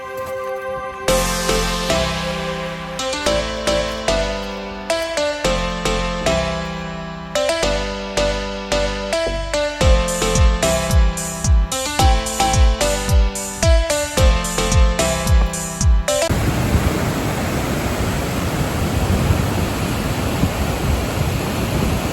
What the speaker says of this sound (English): This is Linton Falls just behind me. By golly, the water's loud.